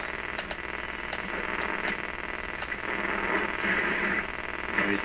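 Steady hiss of AM radio static from an Electrohome Chippendale console radio fills the clip, broad and noisy, with faint ticks and crackles scattered through it.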